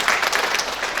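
Short burst of applause from a workshop audience at a city government event in Kediri, bright, busy clapping lasting about a second.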